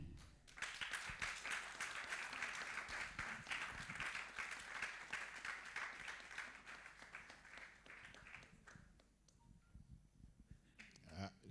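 Audience applause at a French business meetup, a dense patter of clapping that holds for several seconds, then thins and fades to scattered claps near the end.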